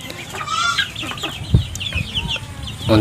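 Chickens around two months old cluck and squawk close by in a busy flock, with a rooster-like call standing out amid the steady farmyard chatter.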